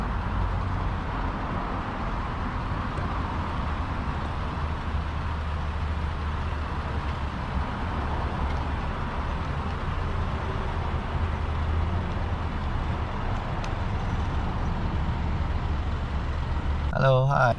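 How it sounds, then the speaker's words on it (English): A 2020 Toyota Tacoma sits parked with its engine idling while hitched to a travel trailer, a steady low rumble holding constant throughout with faint outdoor background noise. "my car still running and just waiting for the transmission to cool down"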